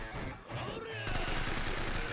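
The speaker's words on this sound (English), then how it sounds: "That goddamn machine gun" Machine gun fire in the Yakuza 4 Remastered game, heard as a loud, dense stream of rapid shots that thickens and grows steadier midway through, with no voices over it.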